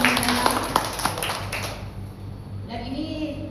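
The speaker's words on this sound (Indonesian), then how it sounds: "Tepuk tangan kembali Bapak Ibu." An audience claps together in a short burst of applause that peaks early and fades out over a few seconds, with a voice speaking over the start.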